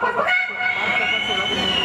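A comedian's voice imitates a rooster crowing, delivering a single drawn-out, strained call that rises and holds for about two seconds, close and fairly loud, like a stage comedy act.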